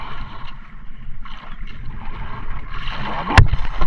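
A boat motor drones steadily over water at sea while fishing for tuna, with a low rumble and some splashing, plus a brief sharp squeak near the end.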